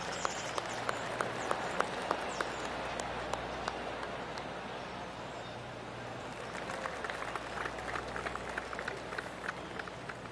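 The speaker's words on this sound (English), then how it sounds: "I can hear the golf claps around the course" Scattered crowd applause ripples across a golf course in the PGA 2K25 video game, a light, continuous patter of clapping that stays fairly even throughout.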